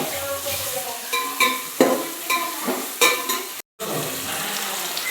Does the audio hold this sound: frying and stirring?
yes